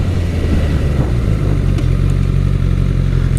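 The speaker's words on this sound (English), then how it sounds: "I propose everybody gets a motorcycle." Motorcycle engine running steadily and close while being ridden on the road, a continuous low rumble with some revving, and no talk.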